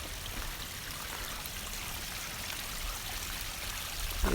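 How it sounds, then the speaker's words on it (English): Steady broadband rush of a waterfall on a morning hike, a continuous even roar of falling water throughout with no voices. "Oh, is it this waterfall you're talking about, John?"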